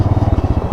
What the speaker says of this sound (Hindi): ओहो, टायर स्किड कर रहा है।